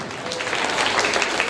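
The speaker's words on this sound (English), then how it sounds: "Give them a clap, a big clap." Audience clapping for students at a school day event, a dense steady wash of many hands applauding together, fairly loud and swelling slightly toward the end.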